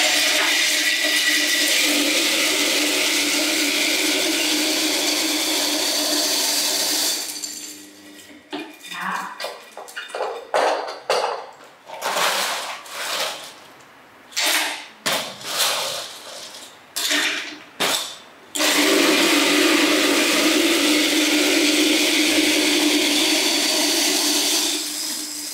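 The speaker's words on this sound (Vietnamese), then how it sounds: "Nhi sẽ dùng một cái máy bào đá để bào đá thành mịn nha" An ice shaving machine runs loud and steady, grinding ice finely for a soda drink, then stops for a stretch of clattering handling and short bursts before whirring on again.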